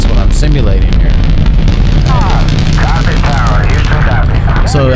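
Sound-designed explosion blast for a Saturn V rocket liftoff, a loud, dense, sustained roar with booming low rumble and rattling debris-like crackle, while a voice talks over it throughout.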